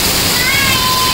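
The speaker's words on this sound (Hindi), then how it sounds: "बहुत तेज बारिश से सारा पानी दुकान के अंदर आ गया।" Heavy rainwater pours into a shop in a loud, continuous rush that sounds like a waterfall, with a faint whistling tone above it.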